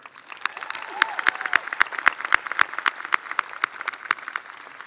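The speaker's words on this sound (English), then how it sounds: "Another round of applause for Dan Hart" Applause at a university commencement, with sharp individual claps standing out over a softer crowd clapping that builds and continues for several seconds.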